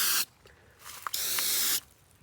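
Rust-Oleum Turbo Can spray paint hisses onto a car hood in two close, sharp bursts, the first cut short and the second lasting about a second, with quiet pauses between.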